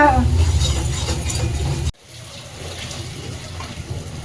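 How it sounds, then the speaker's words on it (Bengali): Water is poured into simmering chicken masala in a pan for a Kolkata-style chicken chaap, making a steady rushing splash for about two seconds before dropping abruptly to a quieter, low bubbling simmer. "আমি এবার একটু জল দিচ্ছি"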